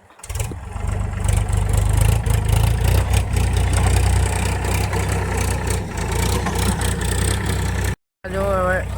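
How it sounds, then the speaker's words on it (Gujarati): A tractor engine rumbles loudly and steadily nearby, a deep low chugging that persists throughout, with a short cut near the end. "આ જો ટ્રેક્ટર હાલે"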